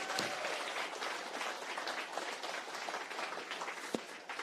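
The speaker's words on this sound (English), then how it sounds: "Let's give them a round of applause." A crowd at the Asian Justice Rally in San Francisco applauds outdoors in a sustained, fairly distant patter of clapping, with one sharp clap near the end.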